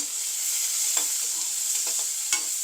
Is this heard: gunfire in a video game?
no